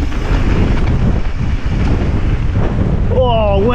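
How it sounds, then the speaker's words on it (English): Strong gusts buffet the microphone while a mountain bike descends a trail at Glentress in Scotland, a loud steady roaring rush throughout, with a rider's whoop rising briefly near the end. "Serious wind on there, taking the bike sideways"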